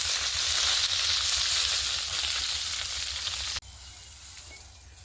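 Fish sizzling and frying in a pan of hot oil, a steady, dense crackling hiss that runs close and loud and then drops to a quieter sizzle after a brief cut.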